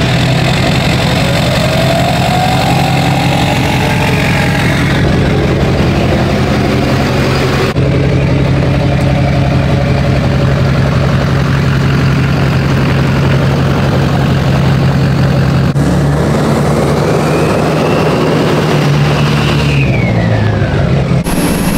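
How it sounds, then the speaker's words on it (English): A truck engine idles steadily at close range with a deep, even rumble, holding loud and continuous with slight shifts in tone and no voices. "The truck isn't perfect, but she sounds so good."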